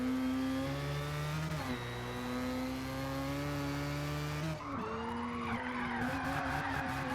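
Engine of a supercharged 13B rotary race car in a racing video game, droning steadily with tonal harmonics, then a shift into a brighter, squealing tire skid and revving toward the end.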